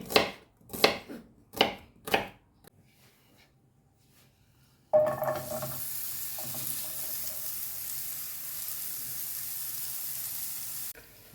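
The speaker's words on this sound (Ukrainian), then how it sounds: "В першу чергу наріжу цибулю поставлю, хай смажиться півкільцями." Several crisp knife chops hit a cutting board as an onion is sliced into half-rings, followed by a pause and then steady sizzle of the onion frying that carries on to the end.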